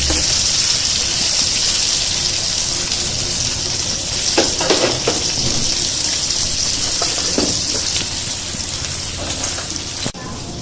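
Masala spices frying in a pot for salan, a dense steady hiss of sizzling with a few spoon scrapes in the middle, loud and close, no voices.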